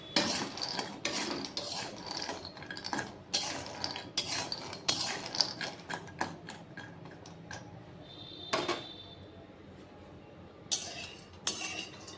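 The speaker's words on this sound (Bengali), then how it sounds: "কাঠবাদামটা এইদিকে ভাজবো একটু ধীরে ধীরে" Almonds are slowly roasted in a pan on the stove and stirred with a utensil, giving repeated dry scraping and clinking strokes in an uneven rhythm with soft quiet gaps between them.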